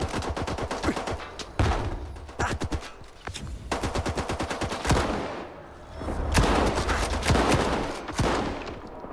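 A new, non-magazine-fed shotgun firing in S.T.A.L.K.E.R. 2, sounding as repeated loud, booming blasts mixed with rapid bursts of surrounding gunfire over nine seconds, with brief lulls between volleys.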